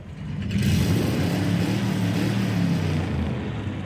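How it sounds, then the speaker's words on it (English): A 1932 Ford V8 car engine revs loudly and close at a classic car race start, a low throaty roar that swells quickly and holds steady for a few seconds before easing slightly. "It is a beautiful sounding car."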